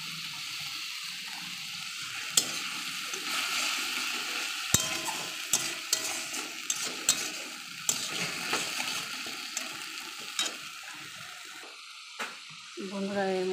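Cumin and ginger paste fries in a pan with water added, a steady soft sizzle under scattered clinks and stirring scrapes, quiet and close, with no voice over it.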